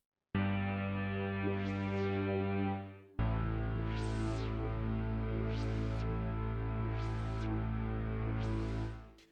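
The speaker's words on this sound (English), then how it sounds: "So you get that filter sweep, okay?" A cinematic EDM synth layer holds a steady, dense tone while an LFO drives its low-pass filter, so bright sweeps open and close about every two seconds after a brief gap near the start.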